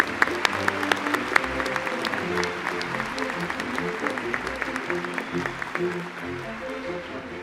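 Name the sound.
audience applause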